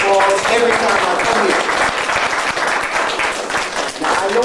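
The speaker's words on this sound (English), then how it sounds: "I have to give her a round of applause every time I" Audience applause in a church center during a talk on sacred and secret language, a steady dense wash of clapping that fills the whole stretch, with voices mixed in under it.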